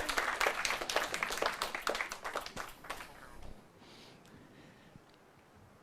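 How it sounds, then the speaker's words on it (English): Applause and clapping for a law-competition contestant at a university moot event, a dense burst of claps for about three seconds that quickly fades into quiet room noise. "Please, a round of applause for him."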